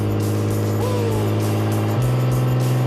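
A rally car engine holds a loud, steady drone under throttle, then its pitch steps up and keeps droning at the higher note; no one speaks over it.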